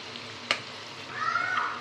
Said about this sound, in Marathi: भजी मस्तपैकी आपली तळली गेलेली आहे